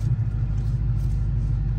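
Steady low rumble from the engine and exhaust pipes of a 2022 Dodge Challenger R/T Plus, a deep continuous drone heard up close, loud and even throughout with no voices.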